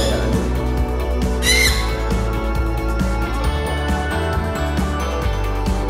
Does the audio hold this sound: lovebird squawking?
yes